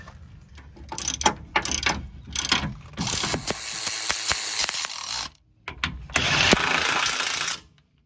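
A hand ratchet tightening control arm bolts on a Honda Pilot front suspension, bursts of rapid close clicking with short pauses between strokes, loud and alone without talking.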